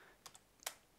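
Faint, close keystrokes on a computer keyboard while typing code, a few scattered clicks with a sharper pair near the end, otherwise quiet.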